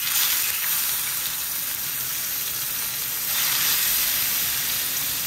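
Beef tenderloin steaks for chateaubriand sizzle steadily in a preheated pan, a loud continuous hiss of frying with no voices.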